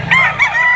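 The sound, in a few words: chickens and roosters at a poultry market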